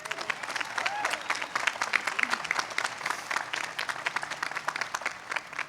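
Applause from a commencement crowd for a student speaker, dense, uneven clapping that swells and pulses throughout, with a few distant voices underneath.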